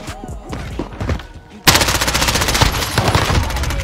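AS Val rifle fire in a Call of Duty Search and Destroy match: a few scattered shots, then a loud, dense sustained burst of rapid automatic gunfire lasting over two seconds, close and dominant.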